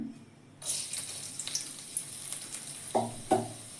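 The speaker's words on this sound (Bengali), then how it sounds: "সবজিগুলো একটু কাঁচা গন্ধটা যাতে না থাকে একটু নেড়ে নেব" Vegetables frying in white oil in a pan, with a steady sizzle under a few scraping stirs and occasional louder clatters toward the end; no talking.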